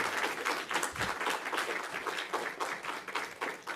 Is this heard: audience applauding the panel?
yes